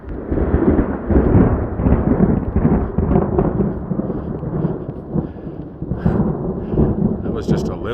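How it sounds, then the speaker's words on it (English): Thunder rumbling through a storm over a trail in Oregon, a long loud low roll that swells and fades over several seconds, with rain patter and a brief sharper crackle near the end. "So there's tons of thunder and lightning."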